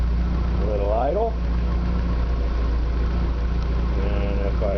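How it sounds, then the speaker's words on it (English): A 1970 Opel GT with a 2.4 engine and Motronic fuel injection idles steadily and close by, a low even rumble running throughout while a person speaks briefly over it. "And a lovely little idle."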